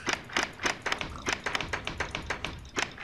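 A Minecraft door is opened and closed over and over in quick succession, producing a rapid run of close, crisp wooden clacks and taps at an uneven but steady pace, with no talking over them.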